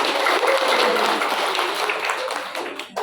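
Audience of parents at a health talk on diabetes claps together on request, a dense burst of applause that holds steady for a few seconds before thinning out.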